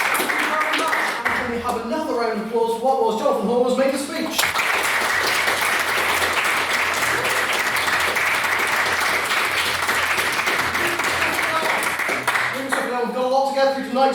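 Crowd applause at an Arab Spring debate, a thick steady roar of clapping through the middle, with a person speaking briefly just before it swells and again as it fades at the end.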